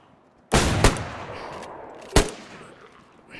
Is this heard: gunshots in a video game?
yes